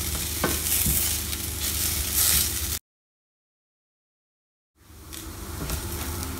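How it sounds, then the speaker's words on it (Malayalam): Shallots and chicken masala powder are sautéed in a pan, giving a close, steady sizzle and stirring. Total silence breaks it for about two seconds before the frying resumes. "ഇനി ഇതെല്ലാം ഒന്നുകൂടെ നന്നായി മൂത്ത് വരുന്നതുവരെ ഒന്നുകൂടെ വഴറ്റിയെടുക്കാം"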